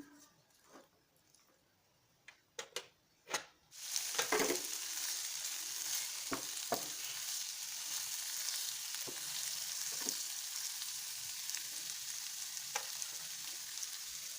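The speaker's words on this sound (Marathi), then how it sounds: "पुन्हा सर्व व्यवस्थित परतून घ्यायचे" Cabbage and capsicum stir-fry for Manchurian. After a few quiet taps, a loud, steady sizzle starts and keeps going, with occasional clicks of stirring close by.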